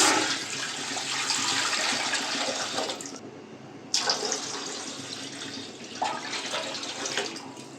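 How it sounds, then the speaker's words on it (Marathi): Around three litres of water pour steadily into a large cooking pot for ration-rice papad, a loud, continuous splashing rush that breaks off briefly partway through, then resumes. "तर आता इथं मी 2-3 लिटर पाणी वाटणार आहे"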